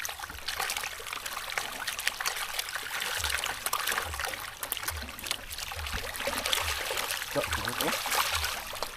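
River water flows and trickles steadily nearby in Batangas, a continuous bright rushing with a faint rhythmic low thumping underneath.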